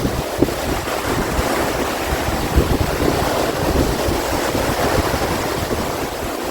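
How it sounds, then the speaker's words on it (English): Continuous roar of rough surf off the coast of Belize with wind buffeting the microphone, steady and loud throughout with no voices. "the waves are a little too rough to be out in the ocean"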